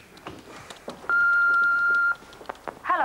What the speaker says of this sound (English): I'll just play that answer phone message from Rachel again.